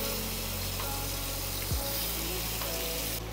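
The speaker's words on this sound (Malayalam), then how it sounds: "ഓയിൽ നന്നായിട്ട് ചൂടായിട്ട് വേണം ഫിഷ് ആഡ് ചെയ്യാനായിട്ട്." Fish frying in hot sunflower oil in a home kitchen pan, a steady soft sizzle and hiss that holds evenly throughout with no speech over it.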